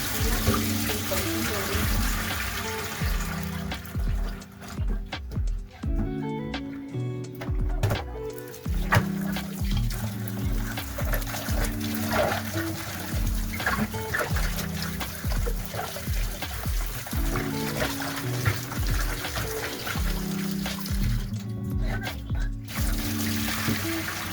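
Tap water runs steadily over potatoes being rinsed in a kitchen sink for bhajia, a continuous rushing splash with shifting gurgles and clunks of potatoes moving, fairly loud and close, with brief quieter pauses.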